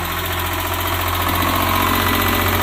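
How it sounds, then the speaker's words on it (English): Engine idling smoothly with a steady, loud, rhythmic pulse and low rumble, close up and with no voices. "Make sure it idles down good."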